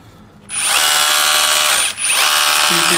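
A Kress KU390 20V brushless cordless rotary hammer drill whirs loudly at high speed close by, briefly dipping once before spinning up again.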